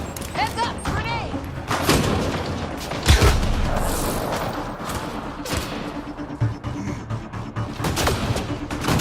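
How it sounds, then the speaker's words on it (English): A grenade goes off in the Mass Effect Andromeda video game, a heavy boom near the three-second mark standing out amid ongoing combat noise, with voices talking over the fight. "Heads up, grenade!"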